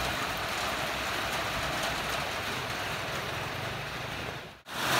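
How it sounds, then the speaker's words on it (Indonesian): Steady rain pours outdoors as a continuous even hiss that fills the whole stretch, dropping out for a moment just before the end. "Sebab cuaca tak mengizinkan hujan."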